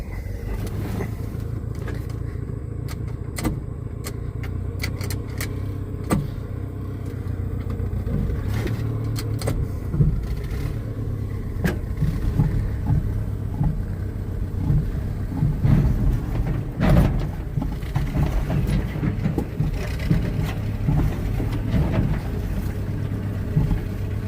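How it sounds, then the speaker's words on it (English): A 1973 Dodge Ram truck, its engine cranked while the truck is pushed in second gear on fast idle, giving a steady low rumble with irregular chugs and knocks building toward the end, heard close without talk. "Now I'm going to put it in second gear and"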